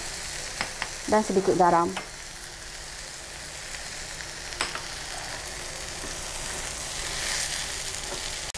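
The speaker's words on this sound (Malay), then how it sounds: "So goreng sekejap sahaja." Toasted rice briefly fried in a pan while making nasi kandar, a short sizzling burst with stirring near the start, then quiet kitchen ambience; a voice speaks briefly.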